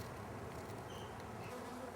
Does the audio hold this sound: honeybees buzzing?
yes